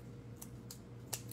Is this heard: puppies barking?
no